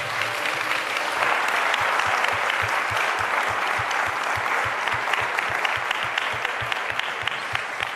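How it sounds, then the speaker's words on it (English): A town hall audience claps loudly and steadily for several seconds in a dense, sustained round of applause, with a faint low rhythmic thumping underneath and no talking. "Let's give them a round of applause for the good work they do."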